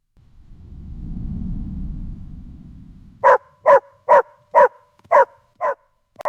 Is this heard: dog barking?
yes